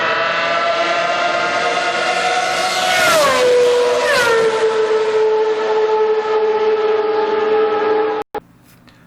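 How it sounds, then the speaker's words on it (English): Two cars drive past in succession, each engine note sliding sharply down in pitch as it passes close by, with a gear change heard; a loud steady roar continues before cutting off abruptly near the end. "there was 2 cars went past, but you should have heard the pitch of the sound drop noticeably as the car went past"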